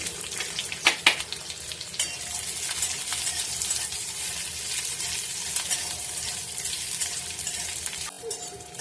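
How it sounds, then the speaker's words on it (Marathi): Ginger and garlic fry in a little oil for a Malvani coconut masala, with a dense continuous sizzle, a couple of sharp clinks early on and light stirring throughout. "थोडंसं तेल घेऊया आपण आणि हे आलं आणि लसूण आहे ते घेऊया भाजून"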